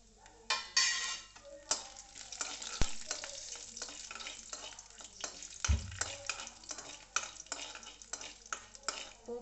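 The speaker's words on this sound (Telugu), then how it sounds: "ఇందులో పోపు వేసుకోవాలి, కొన్ని శనగపప్పు, ఆవాలు, జీలకర్ర, ఎండుమిర్చి." Chana dal, mustard seeds, cumin and dry red chillies fry in hot oil for a tempering, soft crackling and sizzle broken by repeated spoon stirs and scrapes against the pan, close and unaccompanied by talk.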